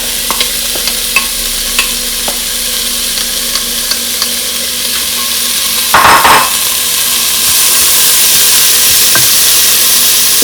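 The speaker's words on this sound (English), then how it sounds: "we're gonna let them cook for about 2 to 3 minutes, just until they're caramelized" Green onion, jalapeno, red pepper and garlic sizzle steadily in a pan, with scattered clicks from a stirring utensil. A louder scrape comes midway, and the frying hiss then swells and holds, close and with no voices.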